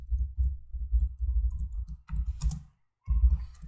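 A computer keyboard clatters as a product name is typed, a close run of quick key taps in bursts with a short pause before more strokes.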